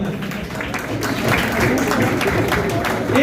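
Crowd applause at a cricket league opening ceremony in Jhelum, a steady, dense wash of clapping from a large audience outdoors, with a loud voice partly mixed in over the top.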